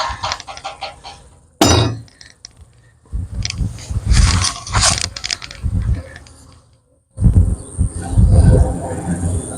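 Honey bees buzz nearby in uneven bursts during a honey harvest, mixed with clattering and metallic clinks, broken by a couple of brief quiet gaps.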